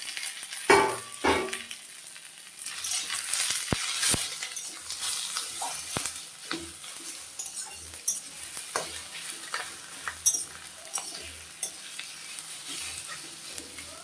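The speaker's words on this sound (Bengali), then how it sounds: "তো বন্ধুরা পেঁয়াজগুলো একটু বাদামি কালার ভাজা ভাজা হয়েছে এখন আমি মাছের ডিম মাছের তেল সহ ডিমটা দিয়ে দিলাম" Fish roe with its oil frying in a pan among browned onions, stirred with a utensil; a steady close sizzle with scraping stir strokes throughout, no talking.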